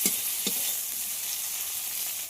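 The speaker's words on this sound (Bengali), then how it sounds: "টমেটোটা গলা অবধি একটু ভেজে নিতে হবে" Chopped tomato sizzles steadily in hot oil in a pan, a continuous frying hiss with a couple of soft stirring clicks near the start.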